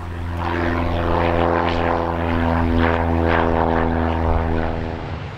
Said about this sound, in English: This is a really busy place with planes arriving and departing all the time.